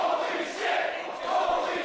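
A wrestling crowd at a Timebomb Pro Wrestling match between Speedball Mike Bailey and Kevin Ku roars in a loud, sustained mass of voices, a dense continuous clamor filling the arena.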